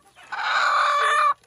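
A single loud, drawn-out squawk from a gray hen, close and agitated, lasting about a second, as her eggs are returned to her.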